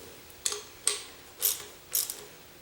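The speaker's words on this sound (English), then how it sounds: "Click, there went that was my internally built-in torque wrench." A torque wrench clicks four times, spaced about half a second apart, while 1/4-inch bolts are tightened on a custom air compressor muffler. The clicks are faint and come alone, with no talk.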